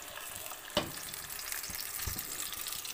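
Chicken kebabs sizzling and frying in a pan, a steady, even crackle with a sharp clink near the start and a few soft stirring thumps, with no voices.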